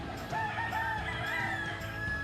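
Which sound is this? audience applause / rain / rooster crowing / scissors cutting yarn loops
rooster crowing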